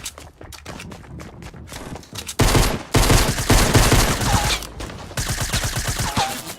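Rapid, dense gunfire rattles through a Fortnite Battle Royale match, with loud, continuous bursts of shots and brief pauses, plus faint footstep-like thuds underneath.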